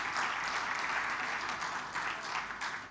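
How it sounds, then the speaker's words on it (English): A convention audience in a hall gives sustained, dense applause, a continuous wash of many hands clapping that swells and eases slightly over three seconds, with a voice faintly underneath. "Please clap for them."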